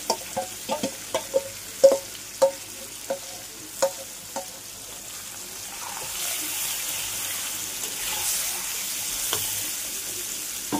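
Marinated chicken with onions fries in a pan, starting with a run of sharp stirring clacks and scrapes, then settling into a continuous wet sizzle, close and moderately loud, with no talking.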